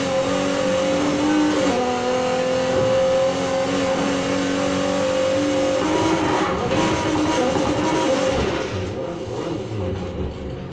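A 1977 Pontiac Firebird engine races in the video game Need for Speed Heat, holding a loud, steady drone with shifting engine tones that falls off and settles near the end, with no voices.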